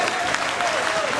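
A brief burst of audience clapping rises at an All India Mushaira poetry gathering in Malegaon, many hands applauding together in a steady, even patter.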